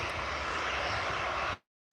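An easyJet Airbus A320 jet arriving at Newcastle Airport gives a loud, steady broadband engine roar that holds evenly, then cuts off abruptly near the end.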